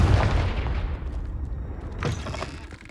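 Confringo blasting spell exploding in the video game Hogwarts Legacy: a heavy booming blast with a rumbling decay, followed by a second, softer impact about two seconds later.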